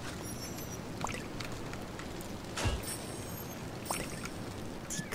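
Water pours from a watering can in Disney Dreamlight Valley as a steady, soft splashing stream under a quiet game background, with a few faint chimes and no talking.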